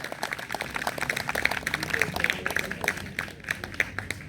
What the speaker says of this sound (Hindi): भरपूर तालियां एक दफ़ा फिर बजाइएगा।